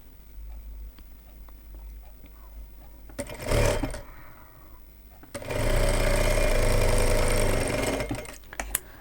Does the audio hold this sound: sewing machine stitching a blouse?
yes